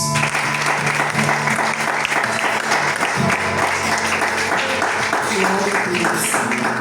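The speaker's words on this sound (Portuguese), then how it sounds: "Aplauda o Senhor Jesus" A church congregation applauds in continuous, loud, crowded clapping that holds steadily throughout, with voices and tonal sound mixed in beneath the clapping.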